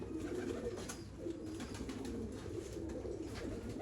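Domestic pigeons of an old dub-marked bloodline kept on a rooftop loft, cooing continuously in overlapping low throaty calls, steady and fairly close, with no talk.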